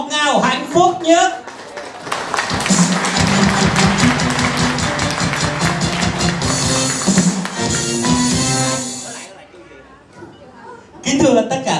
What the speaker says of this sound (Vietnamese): một tràng pháo tay ngọt ngào hạnh phúc nhất